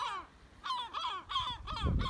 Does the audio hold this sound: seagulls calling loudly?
yes